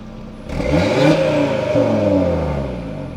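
An Audi RS3 engine with its exhaust valve open is revved twice in quick succession, each rev rising sharply and falling away, close and loud with no voices.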